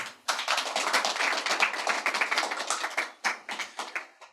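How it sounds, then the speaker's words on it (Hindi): A small audience claps for itself at a Hindi poetry reading, a steady patter of many hands that starts abruptly, holds for about three seconds, dips briefly, then trails off into a few scattered claps. "एक बार अपने लिए तालियां बजा लें"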